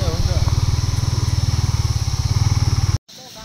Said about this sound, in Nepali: अर्को पनि बाइक आउँदैछ है एउटा